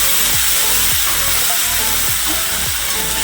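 Garlic and onion paste hits a pan of lightly fried onion and sizzles loudly and continuously, a close hissing spatter broken by soft periodic scrapes of stirring.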